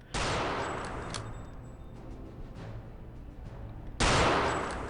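Gunshots fired at breakable blocks inside a castle keep in Return to Castle Wolfenstein: two loud, sharp reports several seconds apart, each trailing into a long echoing decay that fills the gap between them.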